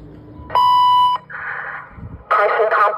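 A school fire alarm sounds through an Atlas Sound APC-30T horn speaker as a loud, steady electronic tone, then harsh buzzing bursts, with a voice announcing over the PA between them.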